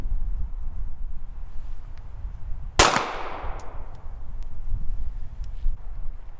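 A single sharp, loud shot from a Remington R51 pistol firing Remington Golden Saber ammunition, cracking out and ringing briefly over steady outdoor wind noise, with no talking.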